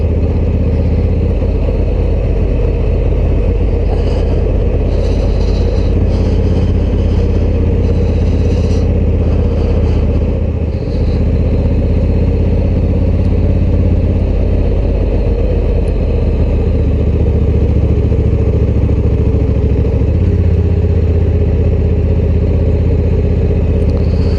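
A Honda Africa Twin Adventure Sports motorcycle engine idles loudly and steadily up close with its exhaust valve open, a deep rumbling exhaust and some mechanical clatter throughout.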